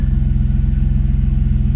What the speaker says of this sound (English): Seems to be idling fairly smoothly.